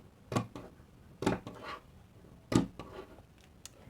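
Scissors snip notches into fabric while a bustier dress with an asymmetric neckline is sewn, three crisp close cuts at roughly even intervals, each followed by faint rustling of cloth in an otherwise quiet room.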